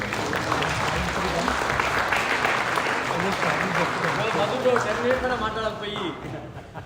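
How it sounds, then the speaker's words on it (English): Applause fills a cricket club banquet hall, a broad wash of many hands clapping at once under a busy crowd with voices mixed in, fading a little toward the end. "Everyone give them a round of applause"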